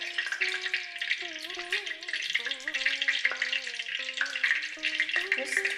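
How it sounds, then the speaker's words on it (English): Cloves and pepper frying in hot oil give off a steady, close crackling sizzle throughout, with a melodic tune playing over it. "just 3 small pieces of pepper, once it is well fried"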